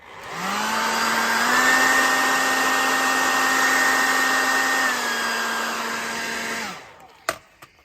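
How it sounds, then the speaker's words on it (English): A hair dryer whirs steadily at high power for several seconds with a constant whining tone, then switches off, followed by a couple of faint clicks. "That's a working hairdryer."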